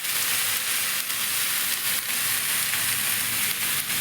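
Methi thalipeeth flatbread sizzles steadily on a hot oiled pan, a dense, continuous frying hiss filling all four seconds with no talk.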